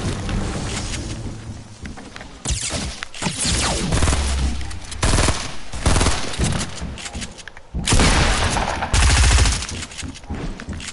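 Gunfire bursts in a video game duo match, loud and dense, with rapid shots clustering in several heavy volleys across the clip and no talk over them.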